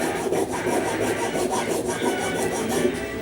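Waste cardboard being cut to size for a small homemade laptop model, a steady, close scraping and rasping that runs without a break for about three seconds, with no talking.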